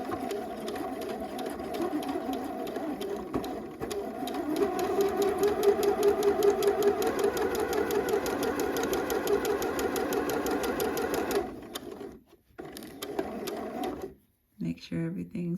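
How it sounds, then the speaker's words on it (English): A sewing machine runs a straight stitch and back stitch on a mock neck bell sleeve top, a steady close mechanical whir that holds for about eleven seconds before stopping, followed by brief handling noises. "So I'm gonna go back to a regular straight stitch, drop down my needle, stitch and back stitch."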